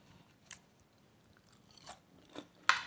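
Faint, close crunchy bites and chewing of stir-fried kimchi with squid, a few separate crisp crunches spaced out, the last one sharpest, in an otherwise quiet room.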